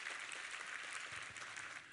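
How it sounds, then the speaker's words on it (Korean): Congregation clapping in a church service, a brief, faint but continuous patter of many hands with no speech. "우리 하나님께 감사와 영광의 박수를 올려드리겠습니다"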